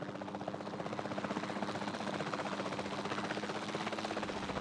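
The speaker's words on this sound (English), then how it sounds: "Then the sensible thing is to take a capture team helicopter." Capture team helicopter in Jurassic World Evolution 2, a steady loud rotor drone and engine whine holding evenly throughout with no speech over it.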